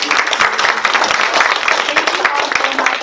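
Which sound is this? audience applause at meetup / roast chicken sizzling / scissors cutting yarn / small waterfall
audience applause at meetup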